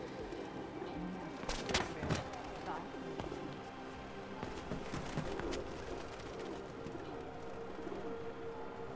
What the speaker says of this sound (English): See birds.